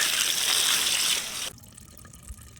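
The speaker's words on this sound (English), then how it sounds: "I think I got a decent amount of water in it." Water poured into a backyard compost bin, a steady broadband trickling splash for about a second and a half, then it cuts off abruptly, leaving faint dripping and quiet ambience.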